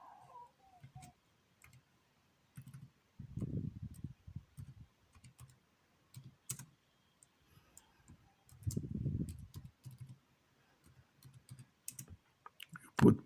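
Light mouse clicks and soft keyboard typing at a computer, scattered irregular taps close by, with a couple of heavier thumps in between.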